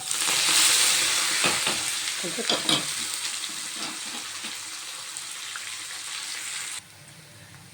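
A tempering of cumin, urad dal and chopped onion sizzling loudly in hot oil, a constant crackling hiss with occasional stirring scrapes; a voice speaks briefly over it.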